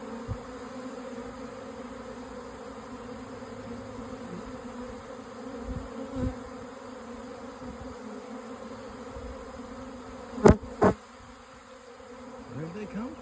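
A swarm of honeybees moving in around a beekeeper outdoors, making a steady, dense buzzing hum that surrounds the listener throughout, with a few brief louder knocks near the end.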